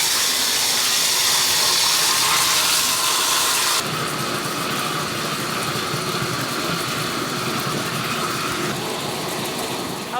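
Water runs steadily from a shower during a young child's bath at home, a loud continuous hiss that drops to a lower, softer flow partway through.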